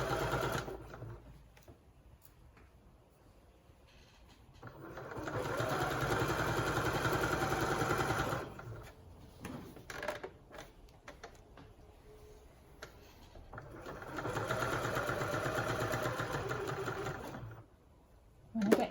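A sewing machine stitches a fabric panel, with two sustained runs of fast, rhythmic mechanical whirring and ticking separated by quieter pauses, heard up close.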